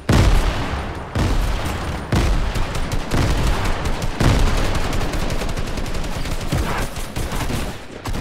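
Rapid gunfire in the Fortnite video game, loud sustained bursts of automatic shots with sharp repeated cracks and brief gaps, dense and continuous with no speech over it.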